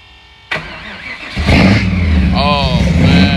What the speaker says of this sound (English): I know that joint loud though. That's what I got. Got the pipes on the side too.